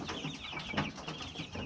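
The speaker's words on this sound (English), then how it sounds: "Trying to grab one chicken." Chickens cluck repeatedly in a farmyard, with a steady chatter of short calls mixed with other bird noises while someone tries to catch one of the birds; no talking.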